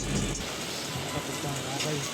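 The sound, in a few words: rain falling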